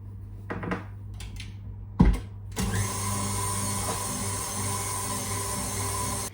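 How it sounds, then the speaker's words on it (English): Electric mixer whisking marshmallow fluff in a bowl, a few clunks and bumps followed by a steady loud motor whir that runs on continuously. "keep whisking it for a few minutes"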